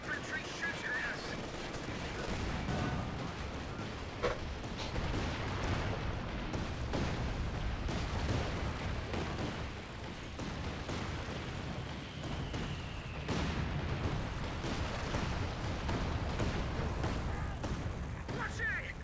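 Dense infantry gunfire crackles nonstop in a Company of Heroes 2 battle, rifle and machine-gun bursts mixed with heavier booms in a loud, cluttered wartime din.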